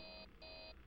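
An electronic telephone rings in Five Nights at Freddy's 3, two short bright trilling bursts in a regular repeating cadence, fairly quiet and with no voices.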